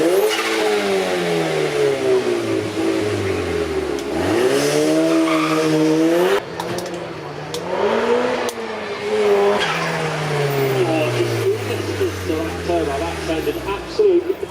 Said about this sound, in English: This is the KTM X-bow 2 litre turbocharged engine with 400 horsepower.